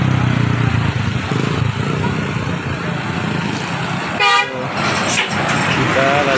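A bus telolet horn toots its melodic tune as a bus passes the Cilegon border monument while children wait, the bright tones sounding briefly twice over loud, continuous traffic noise and nearby chatter.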